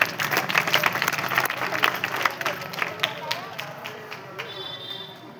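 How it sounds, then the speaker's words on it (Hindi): A crowd claps loudly for a politician in a comedy skit, with a busy burst of applause that thins and fades over a few seconds while voices carry underneath. "जोरदार तालियां।"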